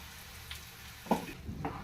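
Spice paste for a brinjal masala curry fries in a pan, crackling in a continuous soft sizzle with a couple of brief stirring scrapes. No one talks.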